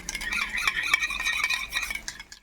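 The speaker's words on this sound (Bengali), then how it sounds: "এখানে আমি এক চামচ মতো দই নিয়েছি সেটাকে একটু ভালো করে ফেটিয়ে নিচ্ছি" A spoon whisks yogurt in a small bowl with quick, rhythmic, wet clinking strokes. The sound is close and continuous and fades at the end.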